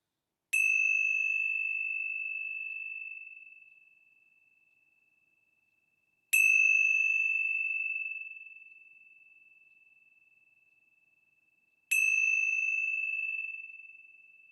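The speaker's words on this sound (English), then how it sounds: "let's begin our time together with the ringing of the bell" Three clear bell strikes, evenly spaced several seconds apart, each ringing out and slowly fading in the quiet.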